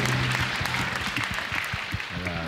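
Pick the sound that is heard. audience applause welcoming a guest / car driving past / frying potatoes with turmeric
audience applause welcoming a guest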